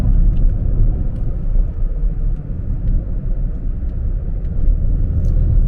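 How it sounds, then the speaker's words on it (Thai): A car climbs a wide, well-paved mountain road on Route 2258 toward Phra Tamnak, Khao Kho, with a steady low engine rumble and road noise that holds loud and continuous. "เริ่มขึ้นเขาแล้วนะครับ แต่ก็ขับสบายสบายครับ"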